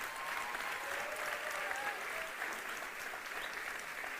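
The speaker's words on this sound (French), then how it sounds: "est-ce qu'on peut l'applaudir bien fort?" A church congregation applauds loudly and steadily after a sermon, a dense, continuous wash of clapping from many hands that holds its level throughout with no break.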